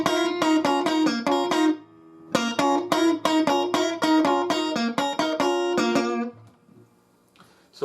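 Electric guitar plays a blues lick in octaves, a bright run of plucked note pairs in two quick phrases separated by a brief pause, closing on a sustained note that fades into near silence.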